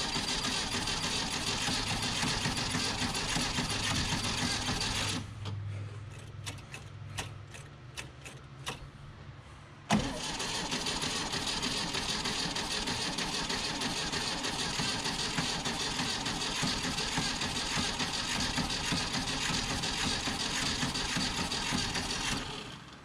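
A Volkswagen Type 34 Ghia engine that has sat since 1983 cranks over and runs in a loud, steady mechanical clatter, broken by a brief stop before it starts again and keeps chugging evenly.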